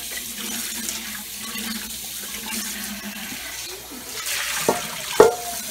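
Kitchen tap running steadily while a cooking pot is rinsed out, a continuous soft splashing wash with a couple of brief clanks near the end, close by and with no voices.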